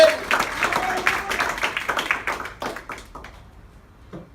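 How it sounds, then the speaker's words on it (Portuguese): Applause at a Christian testimony gathering, a burst of hand clapping that thins and fades out over a few seconds. "Aplaude com vontade, gente."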